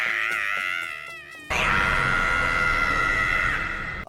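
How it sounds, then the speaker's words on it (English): Shrill anime scream from the character Morty in Shaman King, a loud sustained cry that wavers and warbles, then jumps into a harsher, noisier and louder held scream lasting several seconds with no talk. "I love how identical the Morty screams are in both versions."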